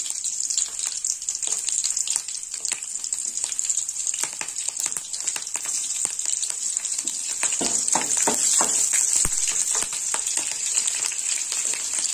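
Panch phoron seeds and slit green chillies frying in hot oil for a spinach curry, a steady bright sizzle with crackling pops and stirring scrapes throughout, close and continuous with no talk.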